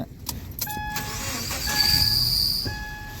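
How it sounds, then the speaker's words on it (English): A Subaru Crosstrek with a failing clutch release throw-out bearing whines at idle near the engine, with a steady tonal drone that shifts in pitch as the clutch pedal is pressed, accompanied by a few clicks. "See how you can change the noise with your foot?"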